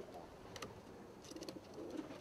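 Soft, low cooing comes from bluette and satinette pigeons in a pen, a couple of brief coos amid faint rustling and a light chirp.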